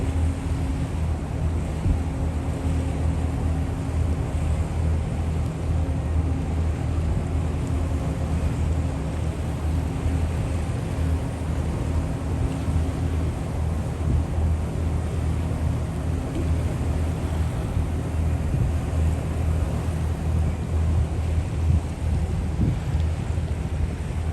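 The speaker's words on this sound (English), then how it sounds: "He's so light on, his propellers are washing out of the water." Ship propellers churn and wash water offshore as a lightly loaded vessel passes, heard as a steady low rumble with wind buffeting the microphone throughout, no talking.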